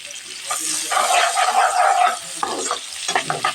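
Chopped onion tipped into hot oil in a pan for a fish and vegetable dish, hissing into a loud, busy sizzle with stirring, and some talk at the same time.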